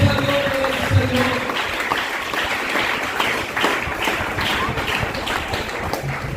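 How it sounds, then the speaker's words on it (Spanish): Church congregation applauding during a Spanish-language worship service, a busy wash of clapping with voices mixed in, steady and fairly loud throughout. "Denle aplausos al Señor."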